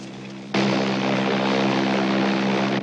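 An airliner's engines run as it waits second in line for takeoff. A loud, steady droning roar starts abruptly and holds constant, heard from inside the cabin.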